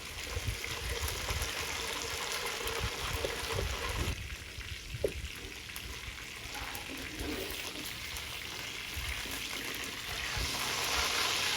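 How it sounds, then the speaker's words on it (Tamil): Green masala fish pieces frying in hot oil, a steady close hiss and crackle running throughout with no talking. "நம்ம அதே போல் பாக்கி இருக்கிற பீசஸையும் ஃபுல்லாக ஃப்ரை பண்ணி எடுத்துக்கிறோம்"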